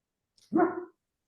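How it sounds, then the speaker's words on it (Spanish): A single short dog bark rings out close and clear against a silent background, heard over a videoconference call. "el que ladró fue mi perro"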